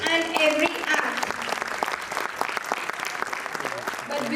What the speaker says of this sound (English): So please keep the thunder of claps big for each and every act.